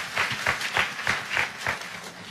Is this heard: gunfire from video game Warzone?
no